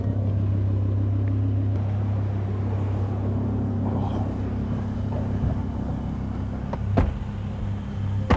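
From inside a moving orange car comes a steady, loud low engine and road rumble, with a few faint knocks and clicks near the end and no clear talk.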